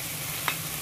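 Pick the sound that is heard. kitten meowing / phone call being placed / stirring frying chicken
stirring frying chicken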